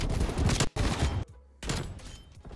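Rapid, loud automatic gunfire from a gun in Black Ops Cold War rattles in two sustained bursts, split by a brief near-silent gap, up close and dominating the sound.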